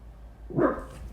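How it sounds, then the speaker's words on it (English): A single short bark from a dog, fairly faint and somewhat distant, over a quiet low hum. "Stop barking."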